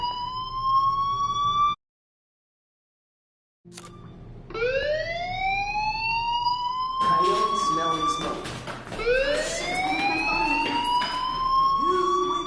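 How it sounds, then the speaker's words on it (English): A fire alarm sounds in the video game Life is Strange, loud rising electronic wails repeating in sweeps, cutting out briefly near the start and then resuming continuously. "Hey, do you hear that fire alarm?"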